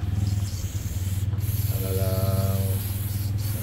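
A WD-40 water-displacing spray can fires through its thin extension hose, giving a steady hissing spray over a low background hum.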